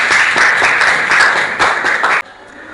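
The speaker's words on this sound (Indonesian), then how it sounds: "Baik, tepuk tangan." Classroom of students clapping together in steady, dense applause at close range, loud and continuous for about two seconds before cutting off abruptly.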